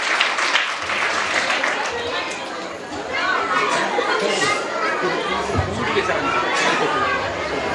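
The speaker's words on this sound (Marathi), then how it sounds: "आपण कृपया टाळ्या वाजवाव्यात" A crowd at a village school festival applauds, broad continuous clapping mixed with chatter and murmuring that swells and dips over several seconds.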